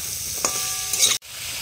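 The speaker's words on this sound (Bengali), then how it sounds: "কাটা সবজিগুলোকে ভালো করে কষিয়ে নিতে হবে" Chopped vegetables with turmeric and salt sizzle steadily in a hot pan, a close, even hiss with a faint clink of stirring partway through.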